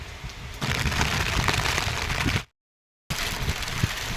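Steady broadband hiss of heavy morning rain falling outdoors near a suspension bridge in Idukki, loud and continuous, broken once by a short silent gap before the downpour resumes.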